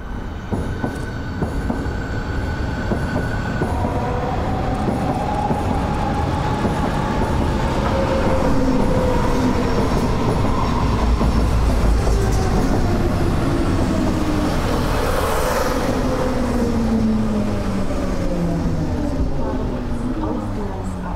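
A Berlin S-Bahn class 485 train pulls into Storkower Straße station, its loud rolling rumble filling the clip with wheel clatter and long squealing brake and wheel tones that slide in pitch as it slows.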